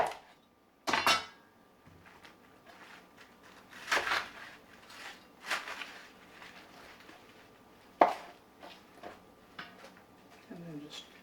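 Kitchen knife chopping napa cabbage on a cutting board for kimchi, scattered sharp knocks and clacks at an uneven pace with quieter scraping between, a voice talking at times in the background.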